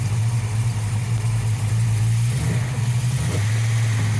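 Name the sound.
Ford Mustang engine revving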